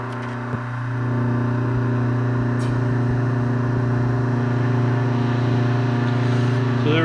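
A Bauer brake test stand spinning up to a 2500 set point for a wear pin check, a steady mechanical hum with strong tonal whine that rises slightly and holds, a person speaking faintly underneath.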